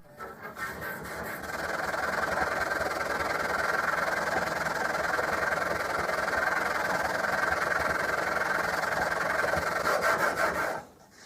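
A steel chisel held in a wheeled honing guide is pushed steadily across a flat sharpening plate, making a close, continuous gritty rasping scrape that holds evenly for about nine seconds and then stops.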